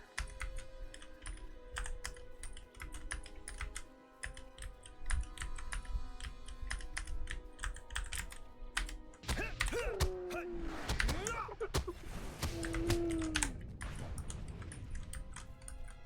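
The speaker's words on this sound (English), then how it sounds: "Constantly clicking the button to get nearest clickable item just to see if we get lucky." Rapid, steady clicking from a mouse and keys while playing Lord of the Rings Online, a dense run of crisp taps, joined partway by louder in-game creaks and thuds.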